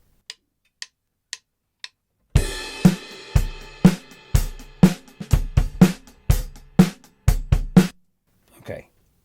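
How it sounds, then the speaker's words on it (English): A full acoustic drum kit recorded straight through studio mics with no phone in the chain: a few light stick clicks count in, then a steady groove of deep kick, cracking snare and cymbal hits, loud and close, with no talking. "So here is the drum recording then without any mobile phone"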